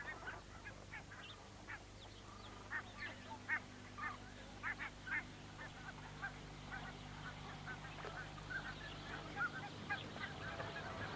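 Cape Barren geese, the Cereopsis of Western Australia, calling at a reed nest: a steady series of short nasal honks and grunts, moderately near, over a low constant background hum, with no talking.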